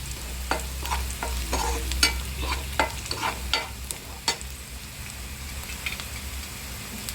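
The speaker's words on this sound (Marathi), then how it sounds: "कांदा भाजलेला आहे आता त्यामध्ये आपण जिरं मोहरी हिंग पावडर आणि लाल मसाला टाकत आहे" Roasted onion in hot oil with cumin, mustard seeds, asafoetida and red chilli powder, stirred briskly for a capsicum dish: a crackling sizzle with a quick run of sharp spatula knocks and scrapes that thins out later, close and without voices.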